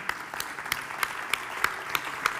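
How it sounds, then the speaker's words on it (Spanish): A small group claps for conference panelists, faint and sparse, with a few distinct hand claps standing out at a fairly regular pace over softer patter. "Un fuerte aplauso para ellos"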